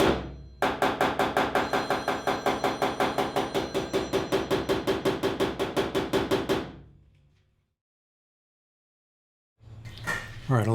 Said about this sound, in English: we're going to take down a couple minor highs with a polished hammer